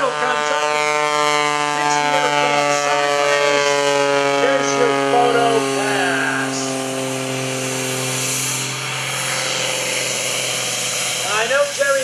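A General Electric J85 turbojet on a stunt airplane at the 2013 Greenwood Lake Airshow gives off a steady, loud, siren-like whine held over several seconds, with the throttle coming up and some faint background noise.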